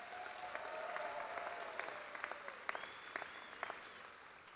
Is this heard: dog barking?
no